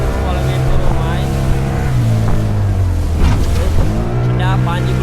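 A motorboat engine drones loudly and steadily during a boat ride, its pitch shifting as the throttle changes, with voices talking over the engine noise.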